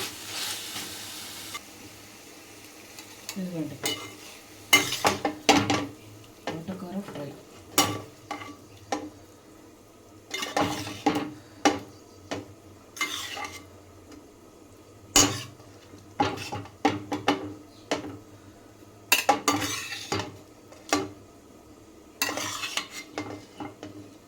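A spoon scrapes and clatters against a pan as amaranth fry is stirred and lifted out, with repeated sharp metallic knocks over a faint background sizzle.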